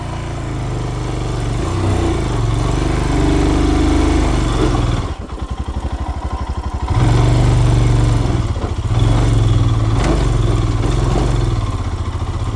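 A motorcycle engine runs loud and close on a steep hill climb, a rough continuous drone that drops to a pulsing idle midway before revving back up to full roar.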